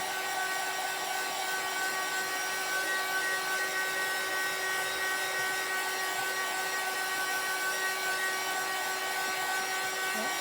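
A heat gun blows on paint with a steady high-pitched whine and airy hiss, constant and close for the whole stretch.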